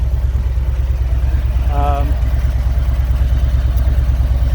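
A 2021 Harley-Davidson Street Bob FXBBS idles at about 1,000 rpm with a steady, low, even throb that carries close and unbroken throughout.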